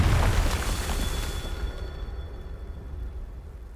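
A Confringo fire spell blasts in the Hogwarts Legacy video game, a loud, deep explosion burst that booms at once and then rumbles and fades away over a few seconds.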